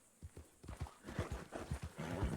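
Horse hooves clip-clopping in a steady rhythm of distinct thuds, close and clear, with a brief whinny-like tone in a Western video game set around Blackwater.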